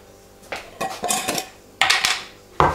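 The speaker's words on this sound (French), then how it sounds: "Je vais rajouter une cuillère de sucre." A metal spoon clinks and scrapes in a bowl while sugar is added to strawberries and rhubarb for a crumble, giving five or six sharp separate knocks close by.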